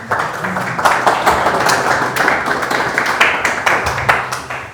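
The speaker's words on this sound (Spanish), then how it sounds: "Un aplauso para ellos." A crowd applauds steadily, a dense wash of many hands clapping at once for the full stretch, fairly loud and close.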